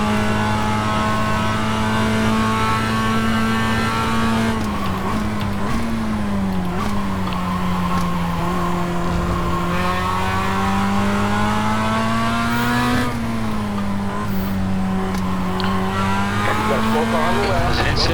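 Tyres on a Mazda MX-5 Global Cup race car squeal in iRacing at Okayama International Circuit, a steady engine drone with sustained screeching that rises and bends through corners, under a commentator's talk.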